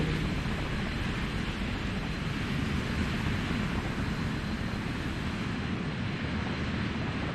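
Engine of a Pelican aircraft in the video game Microsoft Flight Simulator, a steady, loud, broadband drone that holds unbroken while the craft climbs and hovers, with no talk.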